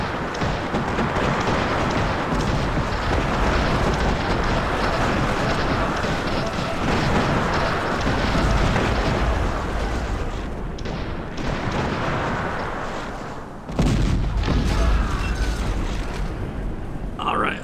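Cannons fire at ships in the strategy game Cossacks: Back To War, a dense, continuous rumble of booming shots and battle noise that stays loud throughout, with a brief dip and a sharp burst near the end.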